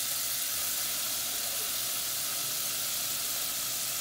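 Ginger-garlic paste hits a frying pan with a little water, giving off a steady, even hiss of sizzling and steam. The sound is close and unbroken, with no voices.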